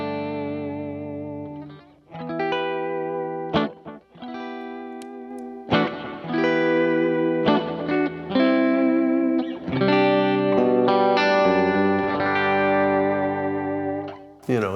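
Electric guitar with a roller bridge plays a bright pop country tone through effects, strummed chords and picked notes ringing with chorus and light distortion, loud and clear with brief pauses, no talking.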